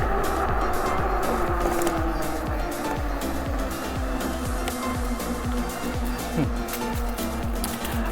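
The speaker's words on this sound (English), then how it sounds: "Let's hit the throttle just a little bit. Take it over the bridge." A fat tire electric bike (Gen 3 Outcross) runs on throttle across a bridge, giving a steady motor whine with rhythmic rumbling thumps from the tires over the deck joints, continuous and close throughout.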